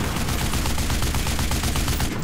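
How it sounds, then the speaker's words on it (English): A .50 caliber machine gun in the game Enlisted fires a steady, unbroken stream of rapid bursts at an aircraft, loud and close, with no talking over the fire. "50 cals are really good at taking down planes"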